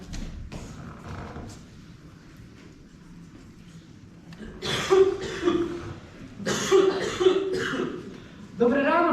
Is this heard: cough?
yes